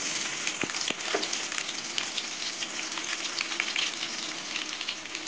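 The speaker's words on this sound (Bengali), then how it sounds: "এই তেলের মধ্যে পেঁয়াজ দিয়ে দেবো।" Onions hit hot oil left from frying soybean chunks, a steady crackling sizzle with a few sharp pops early on, heard close and fairly soft without talk.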